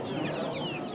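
Young poultry at an Amish animal auction cluck and peep in a brief busy burst, several birds close together amid cages.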